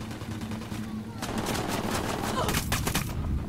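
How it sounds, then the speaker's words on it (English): Gunfire in Ghost Recon Wildlands, a dense burst of shots with sharp cracks clustering in the final second, over steady game ambience with some talk. "Who the fuck is shooting at me?"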